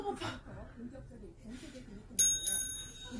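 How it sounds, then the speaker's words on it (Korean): A small bright bell, like a bicycle bell, rings twice in quick succession near the end, clear and close, following muffled talk and shuffling in a room during a party guessing game. "자, 종소리 들으신 분 누구십니까?"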